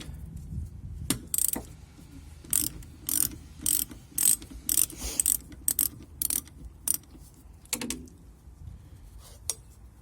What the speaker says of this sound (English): I can use the ratchets to get the rest off.